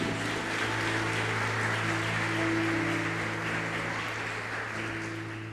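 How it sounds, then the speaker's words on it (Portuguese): A church congregation applauds loudly together in a worship service, a dense steady wash of clapping held over low sustained instrumental tones, easing slightly at the end. "aplauda bem forte o nome de Jesus"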